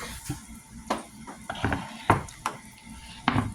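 Steak, broccoli and rice are stirred in a hot pan, with a soft sizzle under a series of close utensil scrapes and clinks against the pan.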